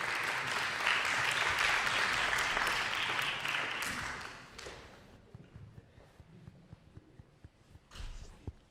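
Audience applause after a Rumi poetry performance in Persian and English rises warmly at first, then tapers into scattered claps and faint room noise.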